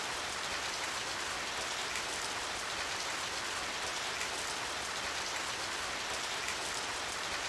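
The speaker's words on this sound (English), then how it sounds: "It started to rain." Steady, dense rain falls in the video game Radiant Historia, a continuous hiss with no breaks and no voices over it.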